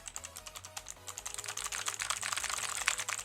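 Computer keyboard keys clack in quick, uneven bursts of typing, close and fairly quiet, with no voices.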